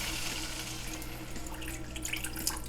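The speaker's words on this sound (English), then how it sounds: "So we now add the water" Water pours into a pan of deep-fried garlic and onion, a soft continuous hiss and splash at low level with no voices.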